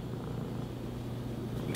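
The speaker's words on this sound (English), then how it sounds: "She's still purring." A cat purrs in a low, steady, continuous rumble close to the mic, with a brief louder bump at the very end.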